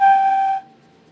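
An open, unstoppered flute pipe from a mechanical organ sounds a single steady, bright tone for about half a second, then cuts off, leaving near silence.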